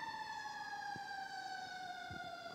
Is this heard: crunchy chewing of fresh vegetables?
no